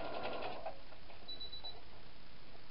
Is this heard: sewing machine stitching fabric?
yes